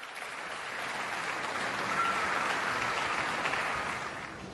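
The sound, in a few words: audience applause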